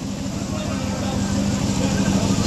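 A 1966 Ford GT40 MK2 engine running slightly rich, a steady low rumble close by, with people talking over it.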